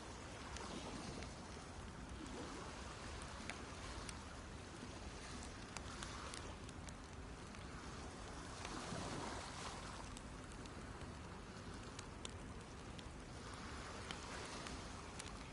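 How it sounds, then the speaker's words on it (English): Ocean waves in the video game DayZ wash in a continuous broad roar with slow surges and fades, mixed with wind-like hiss and faint crackles, no voices present. "You got the fire still going, you got the waves crashing."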